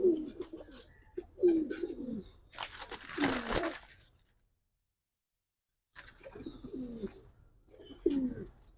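Giribaz pigeons coo softly in repeated low, throaty calls close by at a loft, with a brief rustle of fluttering in between and a short silent gap.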